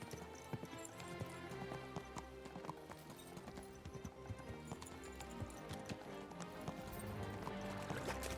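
Horse hooves clip-clopping in the Kingdom Come: Deliverance II video game, a steady rapid rhythm of hoofbeats close by under a constant dense background of ambient sound.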